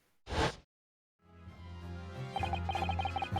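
In the Ace Attorney courtroom game, a single sharp bang from a Venus Special firework, loud like a gunshot, cracks briefly, then silence before game music swells in.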